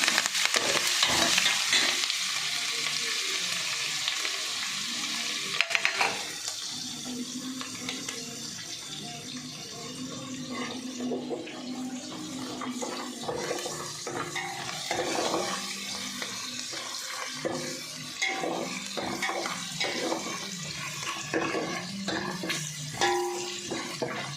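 Curry leaves and green chillies fry in a pan for sabudana khichdi, starting with a loud spattering sizzle that settles into steady crackling and stirring scrapes, close and continuous with no talk.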